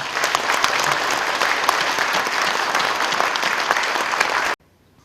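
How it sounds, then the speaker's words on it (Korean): A church congregation at a Korean worship service honoring a retiring senior pastor claps warmly for the elders, a dense, even wash of applause that holds steady for several seconds and then cuts off abruptly. "장로님들에게 축하와 격려의 박수를 한번 부탁을 드립니다"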